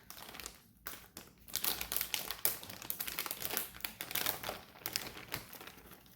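Plastic bag crinkling and rustling as a ribeye steak topped with dabs of butter is slid into it for sous vide sealing, a close, busy run of crackles lasting several seconds with no talking.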